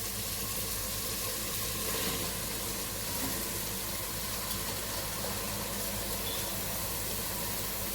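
Rice tipped into a sizzling spice tempering of green chillies, whole garam masala and cumin for khichuri, giving a dense, constant hiss of frying at close range with no talk.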